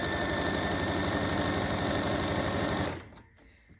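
A sewing machine runs a fast, loud, steady stitch along a half apron seam for nearly three seconds, then stops abruptly, leaving quiet room sound and a small click.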